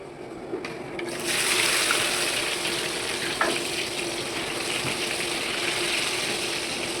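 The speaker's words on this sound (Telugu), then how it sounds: "తోటకూర లివర్ ఫ్రై ఇది గ్రేవీ అండి, ఉడుకుతుంది." An amaranth leaf liver-style fry gravy cooks in oil in a pan, giving a continuous close hiss of bubbling and sizzling with an occasional faint clink.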